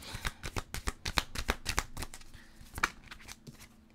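Oracle cards are shuffled and drawn by hand, giving a quick run of crisp riffling snaps and flicks close to the listener, then a few sparser slaps and slides as the cards are laid out.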